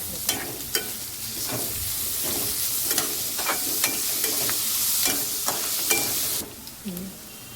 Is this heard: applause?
no